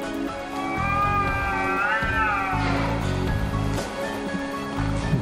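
A cat meows in a long, wavering cry at night in a quiet residential alley, close and clear, with low background hum and no talking.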